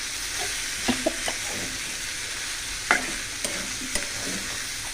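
Vegetable bhaji frying in a pan gives a steady soft sizzle, broken by a handful of close clinks and scrapes as a spatula stirs it, irregular and spaced over a few seconds.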